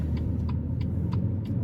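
A BMW M240i rolls along the road with a steady, close low rumble of engine and road noise, broken by faint ticks and clicks.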